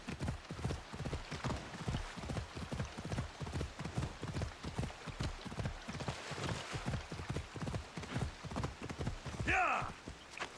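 Hooves clip-clop in a steady, fast rhythm as a horse is ridden through Assassin's Creed Odyssey, loud and close throughout, with a short horse whinny near the end.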